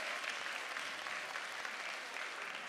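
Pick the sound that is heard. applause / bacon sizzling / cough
applause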